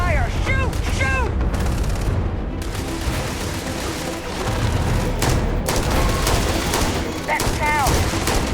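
Dense, continuous gunfire from a sci-fi video game firefight against Terrormorphs, loud bursts layered over a booming, rumbling backdrop, with no letup.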